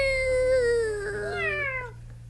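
Person imitating a cat's meow with one drawn-out, falling, whiny call lasting about two seconds, heard alone over a low background hum.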